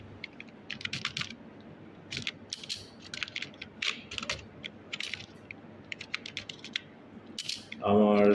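Keys clatter on a computer keyboard while text is entered in Microsoft Word, a steady run of close, crisp clicks in irregular bursts over a low background hum, with a brief louder rustle at the end.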